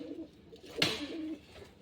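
Soft, low cooing of pigeons being let out of their coop drifts in and out, with a brief sharp rustle or flap partway through, fairly quiet and close by.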